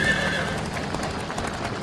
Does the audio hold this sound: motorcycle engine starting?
no